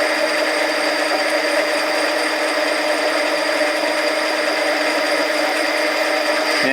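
A Harbor Freight 7x10 mini lathe cuts a 304 stainless steel bolt, giving a steady, loud, close machining whine and hiss with a constant hum. It continues unbroken with no voices.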